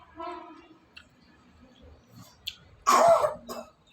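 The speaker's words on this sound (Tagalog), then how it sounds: "Inuubo siya mga kainday." A few light throat sounds lead into a loud, harsh burst of coughing near the end, with quiet background noise between.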